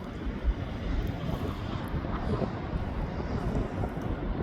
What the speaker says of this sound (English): Just as now they're starting the engines up.